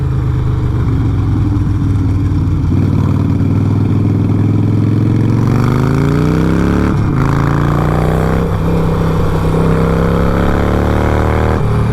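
A Harley-Davidson Sportster motorcycle accelerating on the road, its loud, close engine rising steadily in pitch through the gears with a brief shift dip midway, continuous throughout with no talk.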